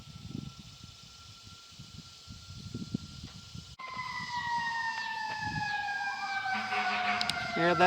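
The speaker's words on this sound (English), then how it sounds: "They're actually coming from both directions, the sirens." Fire truck sirens approach in a residential neighborhood after a quieter stretch with a faint tone, then several wailing sirens overlap and grow steadily louder.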